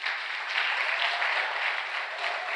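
Steady, full applause from a church congregation fills the room for a few seconds, dense and even with no voices standing out.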